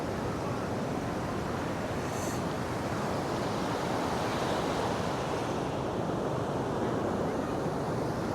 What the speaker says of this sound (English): let's have a look at the ocean